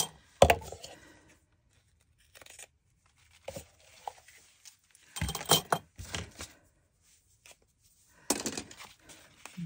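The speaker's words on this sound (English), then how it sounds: "I realize these are not the right scissors." Scissors cut lace for a journal project in short irregular bursts of snipping and rustling, separated by quiet pauses, close up and fairly faint.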